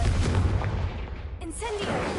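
A Confringo blasting spell explodes in Hogwarts Legacy with a heavy booming burst and rumbling blast, followed by shimmering magical tones, loud and close amid game ambience.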